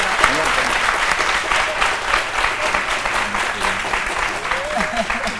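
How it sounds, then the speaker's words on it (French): Steady television studio audience applause fills the clip, dense and continuous, with faint murmuring voices beneath it. "Merci d'applaudir Jean-Michel"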